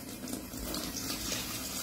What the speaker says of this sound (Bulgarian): В другата чашка ще напълня чешмяна вода.